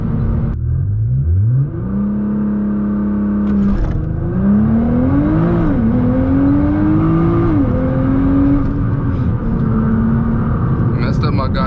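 A Nissan GT-R doing a launch-control start, its engine holding a steady high-idle drone before surging into loud, rising acceleration with several gear changes heard from inside the car, voices talking over it.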